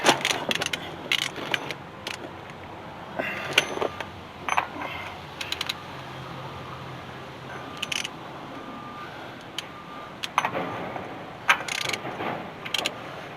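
A socket ratchets as it tightens the wheel bearing race on a Dodge D600 dump truck, giving bursts of clicking and metallic mechanism sounds separated by quieter pauses, close and moderately loud.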